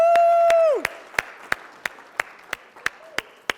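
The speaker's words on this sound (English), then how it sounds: "All right, let's get a round of applause." A small coffee-and-coaching audience in Sauk Prairie gives a round of applause: a few sparse, evenly spaced claps after a sustained tone fades, thin and close, with no talk over them.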